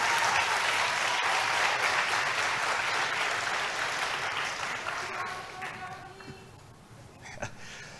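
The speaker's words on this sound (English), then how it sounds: "So just want to give them another round of applause and a huge thank you for making this happen." Audience applause fills a summit hall, a dense steady clapping that starts loud and gradually thins and fades toward the end, with a few scattered claps trailing off.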